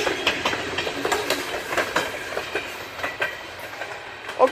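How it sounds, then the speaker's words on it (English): Tropicana juice freight train rolling past on the tracks, a steady rumble with rhythmic clicking of wheels over rail joints, moderately close and continuous with no talk. "Just got that Tropicana train."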